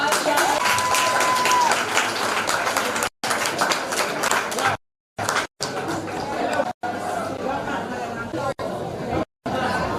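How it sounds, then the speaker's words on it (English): Crowd applause and chatter at a primary school leaving ceremony as pupils are welcomed on stage, clapping mixed with hubbub and voices, with brief cuts of silence. "So we're going to welcome them on stage. Give them a big round of applause."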